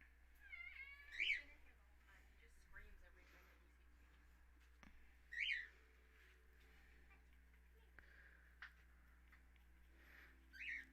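A large cat meows loudly three times, spaced several seconds apart. Each cry is drawn out and rises, and the room is otherwise quiet apart from faint voices.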